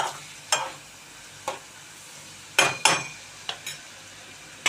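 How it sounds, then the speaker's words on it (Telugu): Small methallu fish frying with onions in a pan, a steady sizzle broken by several sharp scraping strokes of a spatula, close and moderately loud, with no talking. "ఈ మెత్తలు దీనిలో వేసుకొని ఉల్లిపాయలతో పాటు మనం వేయించుకుందామండి"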